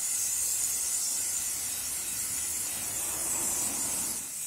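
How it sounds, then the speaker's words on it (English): Chain lube sprays in a continuous close hiss onto the chain of an MV Agusta F3 800 motorcycle while the wheel is turned, steady and unbroken throughout. "So I'm going to just spray and rotate the wheel."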